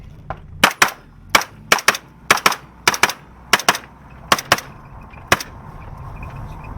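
Sharp gunshots ring out during a security training drill, a rapid irregular string of about fifteen loud close cracks and pops, some in quick doubles, over low background hum and with no talk.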